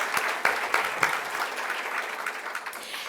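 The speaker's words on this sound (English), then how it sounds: "Let's give him a round of applause" Crowd applause at a Making Strides breakfast fundraiser, a dense steady wash of many hands clapping, fairly close, with a few sharper claps standing out near the start.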